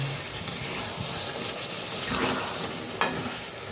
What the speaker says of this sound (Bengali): তো মাছগুলো দিয়ে দিব। ভালোভাবে নেড়ে নেব।